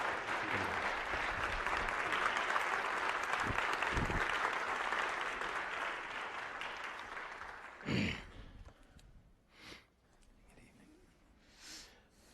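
Audience applause welcoming Jonathan Reckford, speaker at a 2015 leadership event, a dense steady clapping that fills the room for about eight seconds, then fades into scattered claps and quiet room noise.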